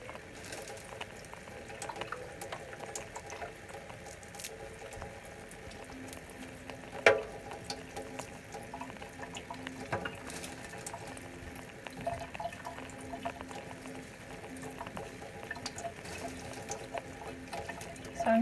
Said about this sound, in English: just making sure that everything gets rinsed off